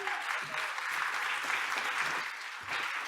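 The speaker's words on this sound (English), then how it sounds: "A round of applause for Dr." Audience applause at an evening innovation awards ceremony, a dense, steady wash of many hands clapping from a large crowd, fairly quiet and continuous throughout.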